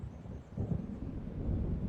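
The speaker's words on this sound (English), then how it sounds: "It seems there's a storm coming." Thunder from an approaching storm in the video game Alan Wake Remastered rolls as a low, continuous rumble, fairly faint and distant, with no talking.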